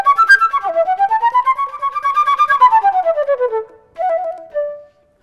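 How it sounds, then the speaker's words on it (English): A solo wind instrument plays the finale passage of Beethoven's Eroica Symphony with rapid, crisply double-tongued sixteenth notes in a rising and falling line. It is heard alone and close, ending with a few short detached notes. "I'm going to use as an example the solo from the finale of Beethoven's Eroica Symphony."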